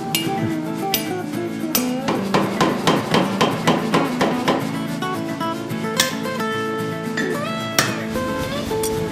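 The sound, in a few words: blacksmith hammering hot iron into a hatchet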